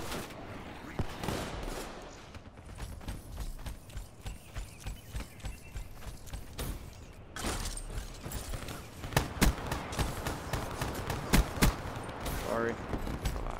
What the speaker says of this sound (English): I have another shotgun.